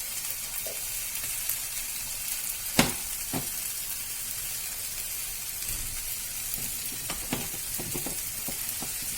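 Tandoori chicken frying in mustard oil on a flat tawa gives a steady, close sizzle with soft crackles and a few sharper pops and clinks scattered through, with no voices.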